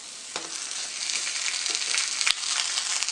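Browned ham steak sizzling in a hot pan on high heat, a dense continuous crackling hiss with a few soft scrapes and taps, close and fairly loud.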